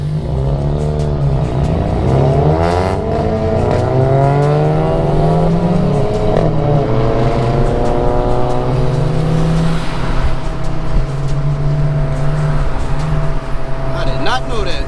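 An Acura RSX with a six-speed manual transmission cruises downtown at night, its engine droning loud from inside the cabin as the revs climb and fall through gear changes.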